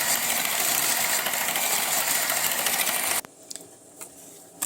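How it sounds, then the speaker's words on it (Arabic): An electric mixer beats cake batter until creamy, a loud steady whirring drone for about three seconds. It stops abruptly, leaving a few faint clicks and clinks. "هنفضل نضرب فيها كده لحد ما تبقى كريمي خالص"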